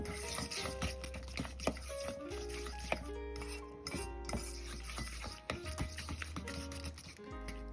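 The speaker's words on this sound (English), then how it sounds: "using the fork once again, I'm just gonna mix that in" A fork stirs cilantro into a dip in a bowl, producing repeated light clinks and scrapes against the dish in an irregular rhythm, close and fairly quiet.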